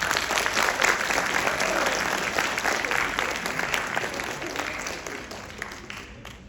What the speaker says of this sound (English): Everyone, please give a round of applause for Dr. Melinda Swoop